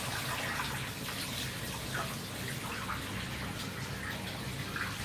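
Water running steadily into a boiler heating system during repair, a continuous rushing flow at moderate level with no talk.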